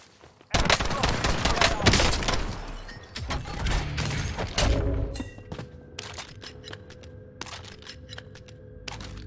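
Rapid shotgun and automatic gunfire crash out in a video game firefight, dense loud bursts through the first half, then sparser distinct shots with mechanical clicks.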